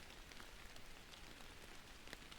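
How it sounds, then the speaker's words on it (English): Gentle rain falls steadily on trees, a soft, even patter of drops with occasional slightly louder splashes, quiet and unbroken. "The rain sounds gentle and nice."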